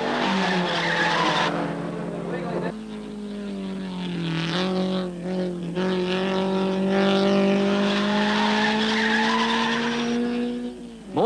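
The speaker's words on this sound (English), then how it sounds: "tyre finally lets go in Shell, and he nearly cleans up pit row as he comes to rest" Racing car from the 1965 Sandown six-hour race, its tyre failing as it skids along near pit row and comes to rest; a loud, sustained engine and tyre howl with rising and falling pitch throughout.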